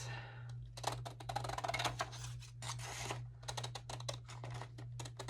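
Scissors snip and rasp through wallpaper template paper in bursts of short cuts, close by and fairly quiet, over a steady low hum.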